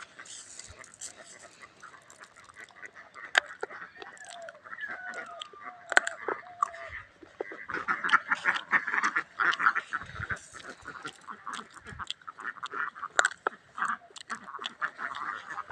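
On a duck farm in Bangladesh, ducks quack in short nasal calls mixed with other fowl noise, a dog and a possible rooster, moderately close amid outdoor farmyard clatter.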